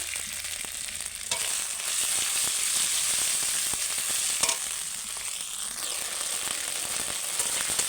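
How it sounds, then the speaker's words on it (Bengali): Ginger and tomato frying together in an oily pan, a constant close sizzle with crisp hissing, punctuated by a few sharp scrapes and knocks of a spatula. "আদা আর টমেটো দুটোই আমার ভালো করে একটু ভাজা হয়ে গেছে"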